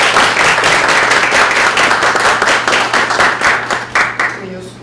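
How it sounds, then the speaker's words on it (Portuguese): An audience applauds lecturers at an academic talk on comics research in Brazil, with dense, steady clapping that stays loud and close for several seconds before thinning out and fading at the end. "gostaria de pedir também uma salva de palmas para eles"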